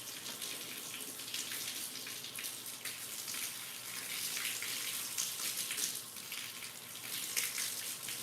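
Water runs steadily while a dog is bathed, a broad continuous splashing hiss close by with no speech over it.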